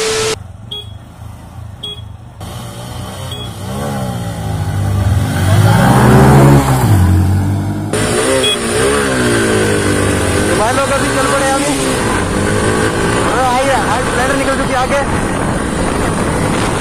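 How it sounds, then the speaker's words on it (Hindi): Two Honda 110cc motorcycles, a Livo and a Splendor iSmart, rev and accelerate in a drag race, with engine tones climbing and falling throughout and talk mixed in. "आज की जो ड्रैग रेस होगी उसमें एक बाइक होगी होंडा लिवो एंड एक तरह होंडा स्प्लेंडर आई स्मार्ट"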